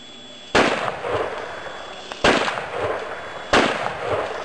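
A hunter at a safari shooting school firing at a moving cape buffalo head target, heard as three sharp, loud gunshots spaced roughly one to two seconds apart, each with a short decaying tail and no talk.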